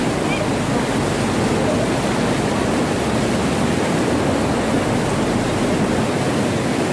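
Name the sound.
rushing river current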